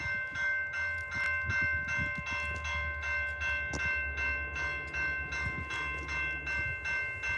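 An EMD SD75M-2 diesel locomotive rolls past close by at a railfanning spot, its heavy steady rumble broken by a fast regular clatter of wheels over rail joints and sustained ringing tones throughout.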